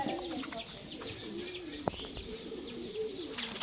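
A restless grizzle pigeon coos in a loft, soft wavering calls close by with light chirps and one sharp click midway.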